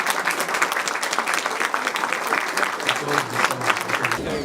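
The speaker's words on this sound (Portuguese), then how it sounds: "Aí uma salva de palmas para o" Steady applause from a crowd at a biomethane project event, dense clapping at an even level throughout with no talk.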